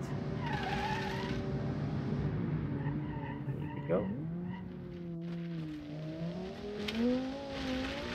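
Game car revving hard and accelerating on an off-road rally stage, engine tone sweeping upward with tyre skids, loud and close throughout while someone talks over it.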